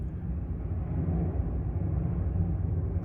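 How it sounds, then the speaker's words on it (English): Airplanes passing over from a nearby airport make a steady, moderately loud low rumble that holds evenly throughout without breaks or speech. "There is an airport near me, so that's why so many planes go by"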